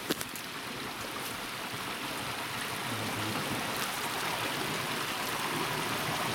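Steady, loud roar of floodwater rushing beneath a small village bridge near a strained dam, a broad continuous rushing noise throughout with no voices.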